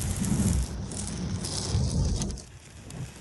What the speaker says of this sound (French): La neige et la grêle sur le pont du bateau.